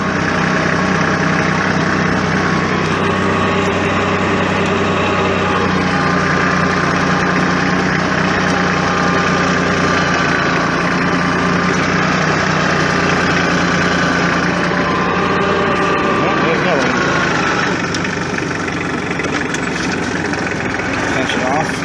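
A Massey Ferguson 1433 4x4 compact tractor engine idles steadily in a wooded work area, a constant close mid-pitched diesel rumble running throughout with no break.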